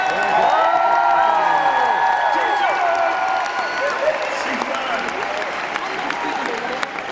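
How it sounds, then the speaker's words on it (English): Arena audience at a musicals show cheering, whooping and applauding, a dense, loud crowd roar with shrill whoops early on that settles into steady clapping over the full seven seconds. "Let's practice a bit of cheering now."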